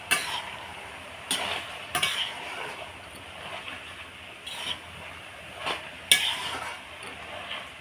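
Mustard, poppy seed, chili and cumin paste being stirred and sautéed in a pan, with a soft continuous sizzle broken by several sharp clinks and scrapes of a spatula against the metal, close and without talk.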